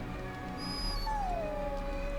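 A dog in Dragon Age: Origins gives a single thin, drawn-out whimpering whine that slides downward, steady and fairly clear over a constant background hum.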